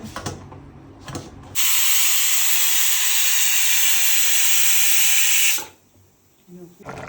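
A loud, steady hiss of steam bursts out of a cooking pot and holds for about four seconds, then cuts off abruptly; faint kitchen clatter before and after.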